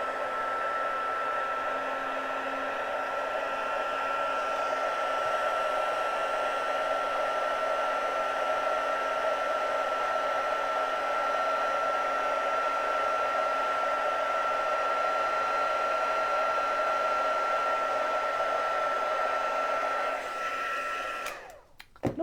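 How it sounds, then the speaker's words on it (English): A heat tool blasts embossing powder in a steady, loud, close whoosh that holds constant for about twenty seconds, then cuts off abruptly at the end with a click. "microphone will get rid of the noise of the heat tool"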